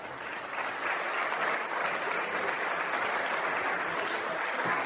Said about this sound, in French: Allez, on les applaudit encore une fois